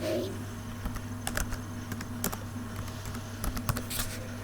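Rapid keystrokes on a late-2008 17-inch MacBook Pro keyboard as a command is entered, irregular clicky taps in short bursts over a steady low electrical hum, close and fairly quiet.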